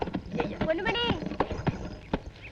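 A horse pulls a cart, its hooves clip-clopping in quick, uneven knocks that run beneath people talking and a voice rising in pitch.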